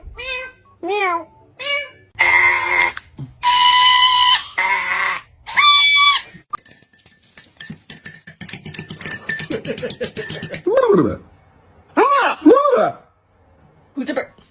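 A parrot imitates a string of sounds up close: loud cat-like meows, clucking chicken-style calls and chattering speech-like phrases, in short bursts separated by brief pauses.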